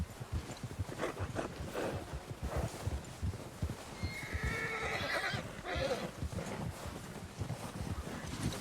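In the Red Dead Redemption 2 video game, a horse whinnies loudly while hooves clip-clop beneath a constant wash of wind and rustling outdoor ambience.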